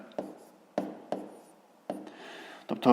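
Writing a math expression by hand, several separate short scratchy strokes with quiet gaps between them, faint and close, ending in a brief louder burst.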